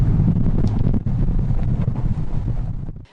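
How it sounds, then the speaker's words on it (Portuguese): Strong gusty wind on the Santos waterfront roars and buffets the microphone in loud, low rumbling blasts that surge and drop abruptly, with no voices. "o cenário era esse, de muito vento"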